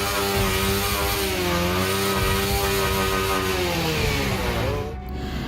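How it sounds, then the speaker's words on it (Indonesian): A motorcycle engine said to run on the Nikuba device roars loudly and steadily close by, its pitch holding high and even as if revved hard, then dropping away near the end. "Arianto terlihat sedang menghidupkan motor dengan alat yang diklaim Nikuba."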